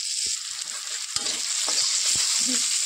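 Onions and green chilies with salt and spice powder frying in a pan, a close, loud and continuous sizzle with a few soft knocks of stirring, and no voices.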